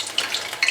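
Fish fillets deep-frying in hot oil, a brief steady hiss and crackle heard up close with no talk.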